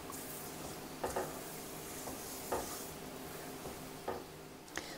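Milk and sugar boiling in a pan for coconut barfi, with a faint bubbling sizzle underneath and a handful of soft scraping stirs at irregular intervals, quiet and close.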